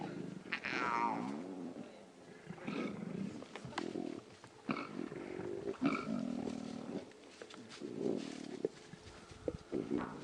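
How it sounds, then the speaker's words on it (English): Lion cubs growl and grumble in repeated rough bursts, heard close and fairly loud at sunrise on a live safari drive, with no talk over them. "Those are cubs growling."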